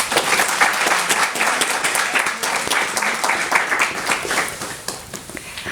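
A seated audience at a book review session in Baltistan gives dense, sustained applause welcoming Mr. Qasim Naseem onto the stage. The clapping is loud and even throughout and fades slightly at the very end.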